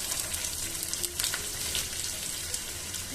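Onions and curry leaves frying in coconut oil in a small kadai for tempering a Kerala fish curry, a steady close sizzle with a few light clicks.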